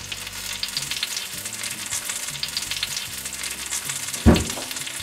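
Garlic and parsley frying gently in lard over low heat, with a soft continuous sizzle and light crackling close by and a single brief thud near the end.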